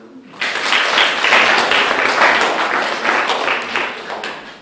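An audience at a club event in Púchov breaks into applause for a speaker, a dense, sustained clapping that rises quickly and holds steady for several seconds before gently tapering.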